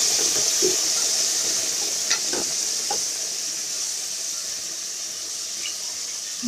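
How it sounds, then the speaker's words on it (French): Cooking broth is poured into a hot pan of pork ribs, giving a steady hiss of sizzling and bubbling liquid with a few soft clinks and stirring sounds, and no talking. "et là, j'ajoute le bouillon de cuisson."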